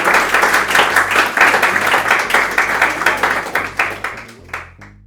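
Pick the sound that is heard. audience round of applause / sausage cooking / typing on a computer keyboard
audience round of applause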